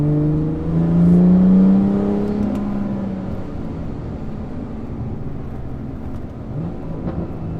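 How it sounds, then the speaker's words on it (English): A BMW 340i with a single-turbo inline-six, on H&R Sport Springs, pulls through twisty corners, its engine note swelling loud near the start and then settling into a steady cabin drone with road rumble. "you do get a beast of an inline 6 single turbo engine"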